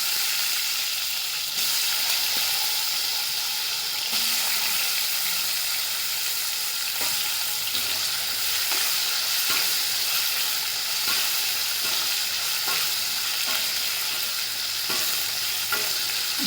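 Potatoes sautéing in a pan with mustard seeds and asafoetida, a loud continuous sizzle and hiss with regular faint spoon taps and stirs throughout.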